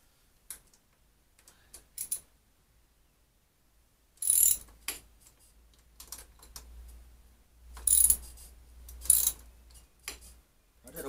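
A ratchet wrench fitted with a 12 mm socket undoes bolts on a Honda Blackbird motorcycle. Quick clicking runs come in bursts, some over a faint low hum, close and moderately loud.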